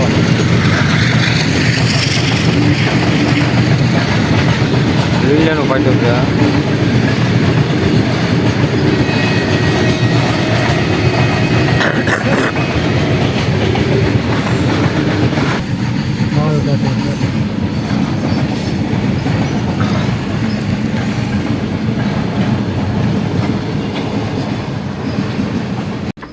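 A train rumbles past close by, a steady loud roar with rail clatter and a brief squeal, while someone talks over it.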